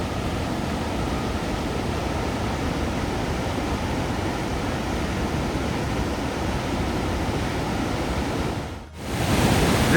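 Lower waterfalls at Sunwapta Falls in Jasper National Park roar as a steady, loud, broadband rush of falling water that holds constant throughout, briefly dipping near the end before returning.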